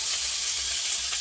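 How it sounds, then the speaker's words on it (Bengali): Garlic and ginger paste frying in hot oil in a pan while being stirred, a close, steady sizzle with a constant hiss and no pauses. "রসুন বাটা, আদা বাটা, ভালো করে নেড়ে নেব।"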